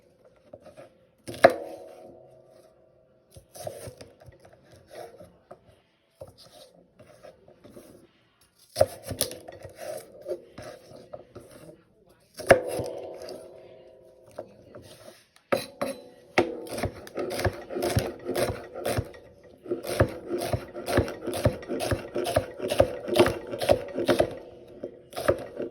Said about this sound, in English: Let's cut up this celery.